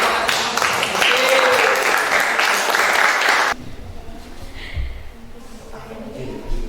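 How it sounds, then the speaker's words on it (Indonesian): Classroom applause at an Indonesian junior high school, a dense broadband wash of many hands clapping together for about three and a half seconds, then stopping abruptly into quieter room noise with some murmuring. "Tepuk tangan"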